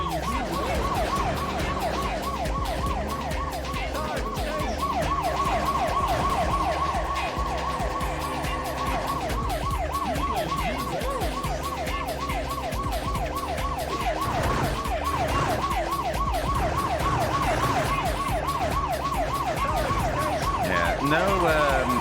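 Police car sirens wail continuously in the PS1 racing video game Explosive Racing, a steady repeating siren over engine and road noise throughout, with a voice talking faintly underneath.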